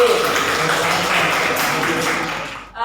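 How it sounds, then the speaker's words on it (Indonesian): Applause from a classroom of students for a group (team B) during a lesson, a dense steady wash of clapping filling the room, loud throughout and tapering off sharply near the end. "tepuk tangan untuk regu B."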